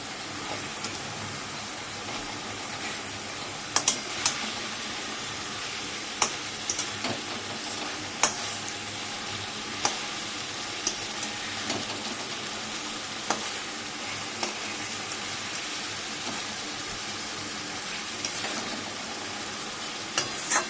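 Fish being stirred with spices in a hot pan, probably for a Bengali gurjali fish curry: steady sizzling frying with occasional sharp scrapes and taps of a spatula against the pan.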